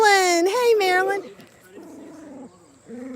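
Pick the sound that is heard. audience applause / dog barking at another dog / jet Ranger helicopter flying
dog barking at another dog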